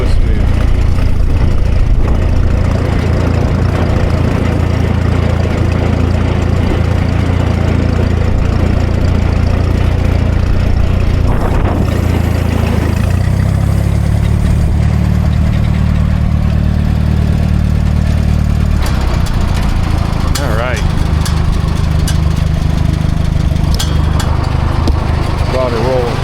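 A G950 heavy equipment engine idles close by, a deep continuous rumble that shifts to a slightly different pitch midway, with someone talking over it and brief clatters near the end.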